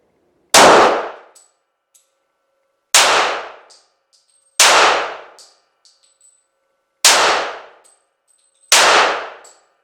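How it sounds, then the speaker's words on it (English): Five loud, sharp shots from a Caspian 1911 pistol, each followed by the ringing clang of a steel target. The shots come at irregular intervals of one to two seconds, with short decaying rings and quiet gaps between. "Let's shoot at that number 5 over there."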